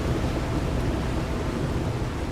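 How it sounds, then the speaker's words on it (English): A thunderstorm rages over stormy seas in the video game The Last Caretaker, a dense, steady roar of wind, rain and crashing water with deep rumbling underneath, continuous and loud throughout. "Wish that storm would just go away."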